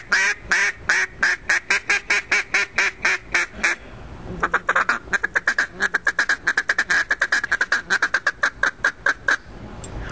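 A duck call blown to imitate ducks feeding, a rapid run of short, loud, buzzy quacking notes in two bursts separated by a brief pause, with no talk.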